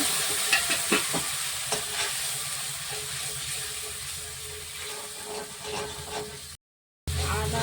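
Hot water hits frying ginger paste in a pan for cauliflower dalna, producing a loud hissing, bubbling sizzle with stirring scrapes that carries on steadily before a brief cut to silence.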